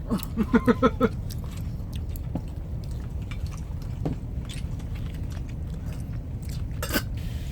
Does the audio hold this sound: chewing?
yes